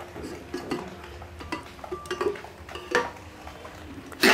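A metal pressure cooker is handled in a home kitchen. Light metallic clinks, taps and scrapes come close up at an uneven rhythm, ending in a sharper clatter.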